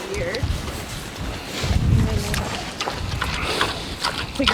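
Strong gusty wind buffets the microphone outdoors at a farm animal refuge, a broad roaring rumble with surges, especially loud around the middle, while a voice speaks faintly underneath.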